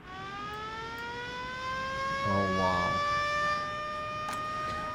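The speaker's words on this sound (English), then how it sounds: "this ambulance is really annoying." An ambulance siren in the video game Soviet Republic, a steady wailing tone held throughout, with someone speaking briefly under it.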